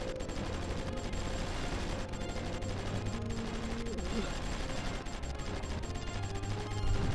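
Continuous gunfire crackles through a battle in the strategy game Supreme Ruler Ultimate, dense overlapping bursts and rattling volleys running without a break, with a low rumble underneath the whole time.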